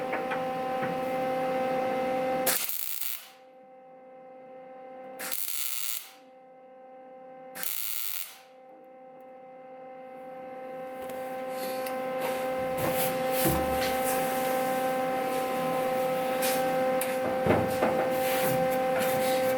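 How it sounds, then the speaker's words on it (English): Tack welding on the corners of a metal frame: three short bursts of harsh crackling buzz with quiet gaps between them, then a longer, steadier stretch of welding crackle with a continuous hum running underneath, all close by. "What I'm going to do here is tack everything. Try to tack each corner."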